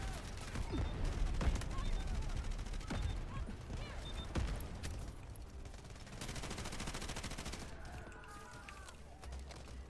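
Bursts of gunfire from the video game Delta Force crackle in rapid volleys under ongoing game noise and mechanical clanks, with people talking over parts of it.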